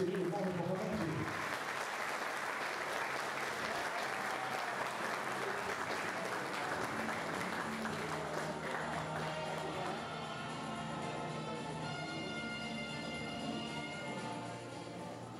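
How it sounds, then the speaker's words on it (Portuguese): Audience at a sports honor ceremony breaks into sustained, dense applause that fills the room steadily from start to finish, with faint voices underneath. "Uma salva de palmas ao nosso querido Paulo Comandante."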